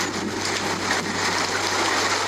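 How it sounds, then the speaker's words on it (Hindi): Heavy rain pouring during a night storm, a dense, steady roar of water without letup, close and loud, no voices. "एक रात आंधी के साथ साथ बहुत जोरों की बारिश होने लगी"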